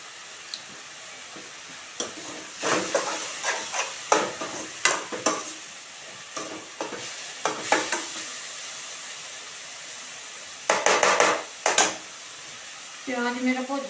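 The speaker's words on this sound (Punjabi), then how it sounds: "ਥੋੜਾ ਥੋੜਾ ਭੁੱਜ ਜਵੇ ਫਿਰ ਦੇਖਦੇ ਆ ਹੋਰ ਮਸਾਲੇ ਪਾਉਣੇ ਆ ਜਿਹੜੇ" Spices roast in a pan for a home-cooked Punjabi village dish. A steady sizzle runs under irregular scraping stirs and clatters against the pan, with short bursts of utensil knocks.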